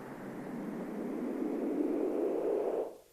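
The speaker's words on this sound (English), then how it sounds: "I've got a white noise whoosh." A broad, hissing synthesizer white-noise whoosh from a Novation Circuit swells gradually for about three seconds, then cuts off abruptly, heard alone.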